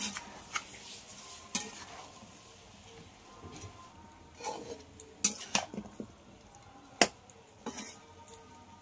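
Chicken stirred in a covered pan on low heat, with scattered clinks and scrapes of a spoon against metal and the lid being handled, soft and intermittent, with faint sizzling beneath.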